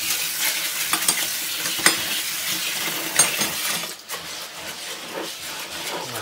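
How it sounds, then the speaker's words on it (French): Hemp seed for carp bait is rinsed in water, with close sloshing, swirling and gritty rattling of the seeds in a container, and a brief pause partway through. "On va mettre un peu d'eau au fond. Voilà. Un premier rinçage."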